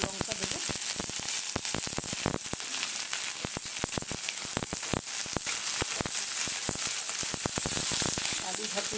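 Onion and two green chillies sizzle in the oil left over from frying potatoes, a loud, steady crackle with dense popping throughout.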